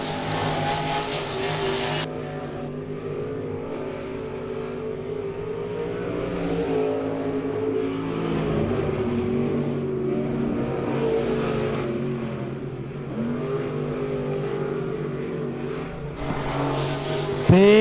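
Race cars lapping at Monett Motor Speedway during weekly heat races, engines roaring and swelling as they pass and fade around the track, steady and fairly distant, with brief tire noise.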